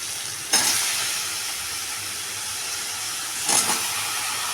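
Eggplant sautés in hot oil with curry leaves and coriander in a pan, a steady close sizzle broken twice by louder bursts as pieces are stirred or added.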